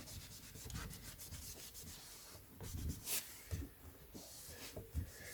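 A cloth rubs gently over a signed hardback book cover in soft, close, uneven strokes with short pauses.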